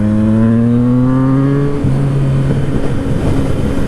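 A Yamaha FZ-09 motorcycle engine, running an aftermarket quick shifter, revs up loud and close, its pitch climbing steadily before a quick shift drop and continued rough, throaty pulling.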